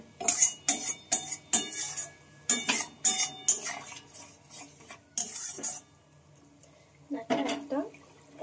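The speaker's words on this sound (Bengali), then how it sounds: "গরম মশলাটাকে একটু নেড়ে চেড়ে এইভাবে নেব।" Garam masala stirred into a potato and egg dish in a pan, a series of rhythmic scraping and clinking strokes from a utensil against the pan with faint sizzling between them, close, ending with a short stretch of speech.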